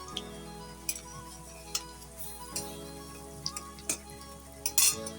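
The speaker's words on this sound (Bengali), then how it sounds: "এইভাবে শেপ দিয়ে ভেজে নিচ্ছি আমি গ্যাসের আঁচ আস্তে দিয়ে রেখে দিয়েছিলাম তাহলে ভালোভাবে ভাজা হয়ে যাবে" Lentil fritters frying in oil over a low flame, a soft steady sizzle under a faint hum, with a regular series of light metallic taps and scrapes as they are turned.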